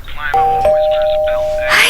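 A two-tone electronic doorbell chimes indoors, the first note followed quickly by a longer sustained second tone, while a person speaks over it.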